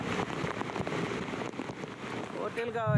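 Heavy monsoon rain pours down in Raigad district, a dense, steady hiss of downpour that fills the whole clip, growing rougher and louder near the end.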